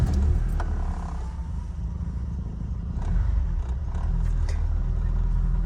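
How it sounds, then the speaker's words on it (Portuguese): A 1992 Volkswagen Santana GLSi 2000 engine turns over and runs with a steady low rumble, up close and loud, with occasional clatter and no speech. "Vamos ver, vamos ligar o carro."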